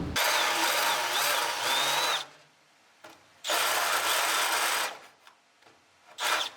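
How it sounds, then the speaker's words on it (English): Countersink bit deburring the underside of a drilled hole in a steel roll cage pad for a 1960-66 GMC/C10 truck, two sustained high whirring grinding bursts of a couple of seconds each with short quiet gaps and brief tool blips between. "go on the bottom side with a countersink bit"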